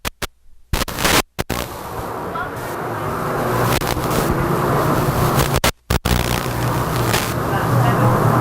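Race cars roar off turn four on an oval racetrack, a loud, dense engine rumble that builds and holds, broken by abrupt cuts, with a commentator talking over it.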